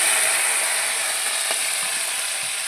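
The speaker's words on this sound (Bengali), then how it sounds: "এই যে দেখো পেঁয়াজ তেজপাতাটা দিয়ে একটু ভাজা ভাজা করে নেবো পেঁয়াজটা।" Onion and bay leaf frying in hot oil in a pan after whole garam masala has been tempered, giving a steady, close, continuous sizzle with no talk.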